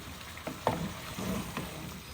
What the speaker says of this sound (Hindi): मटन को मैंने मसाले के साथ मिक्स कर दिया।